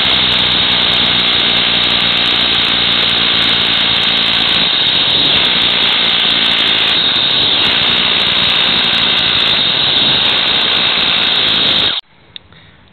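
A power drill with an 8mm bit whines loudly and steadily as it bores into soft rock, grinding on for several seconds before stopping abruptly, followed by a faint click.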